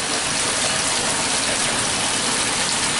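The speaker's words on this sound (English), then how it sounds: "As you control the water level by opening and close the tap." Tap water gushes steadily into a Laundry Alternative Superpop compact washing machine, a constant broadband rush at close range with no voices.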